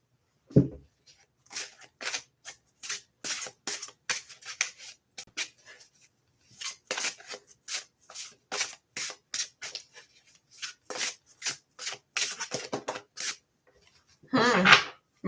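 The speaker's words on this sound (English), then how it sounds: "I feel like I need to shuffle this one." Tarot cards being shuffled in repeated bursts of brisk papery riffling and rubbing, fairly close and moderately quiet, with short pauses between bursts and a louder rustle near the end; no talking.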